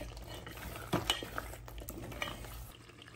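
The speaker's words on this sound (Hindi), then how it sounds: "फ्लेम को मीडियम पे रख के मिक्स करिए" Fresh cream is mixed into mutton in a pan over a medium flame, with a faint, low simmer and soft scraping stirs and a few light clinks of a utensil against the pan.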